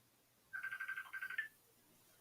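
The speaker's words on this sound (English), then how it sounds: "Oh, my phone's ringing." A phone rings with a short run of rapid warbling electronic tone pulses lasting about a second, fairly quiet in an otherwise still room, followed by a brief faint click at the end.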